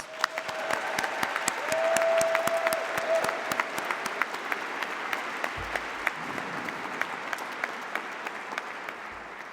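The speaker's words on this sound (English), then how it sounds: "A warm round of applause." Graduate commencement audience applauds doctoral candidates, a sustained round of clapping heard at moderate distance that swells early and then thins to scattered claps, with a faint tonal whine at the start.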